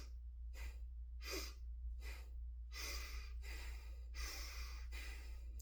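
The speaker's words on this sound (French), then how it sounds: "Je t'invite quand même à respirer puissamment, à aller chercher beaucoup de vitalité dans la respiration." Strong, rhythmic breaths, quick forceful inhales and exhales in a breathing exercise, come in about eight bursts, close and fairly loud over a steady low hum, with no talking.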